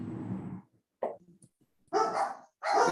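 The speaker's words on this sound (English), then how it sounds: "bear with me when my dogs bark in the background" Several dogs barking at a home during an online committee meeting, a few loud bursts close by separated by short pauses, with no talking over them.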